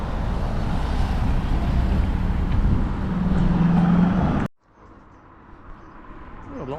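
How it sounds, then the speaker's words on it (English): Busy road traffic near Denby golf course rolls past as a steady, fairly loud broadband roar for about four and a half seconds, then cuts off abruptly to a much quieter background that slowly builds again. "A lot of traffic then."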